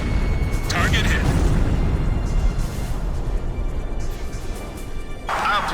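A target blown up in the jet combat game Ace Combat 5 The Unsung War, a heavy booming explosion rumbling under a constant loud engine roar, with brief radio voices speaking over it.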